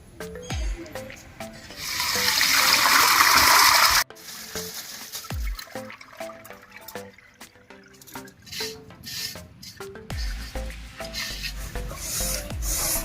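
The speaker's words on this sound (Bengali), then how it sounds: "আজকে ধানটা ঝরান দিয়ে দিব।" Paddy rice, boiled and soaked overnight, drains of its water as the wet grain shifts, giving a rasping, rustling wash with a loud surge early on and scattered drips and scrapes afterward, close by with no talking.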